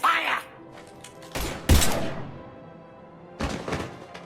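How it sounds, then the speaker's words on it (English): Gunfire erupts in Mass Effect 3 on the Citadel: two loud, close bursts of shots crack out in the middle and near the end, separated by quieter stretches with faint background sound. "Now open fire!"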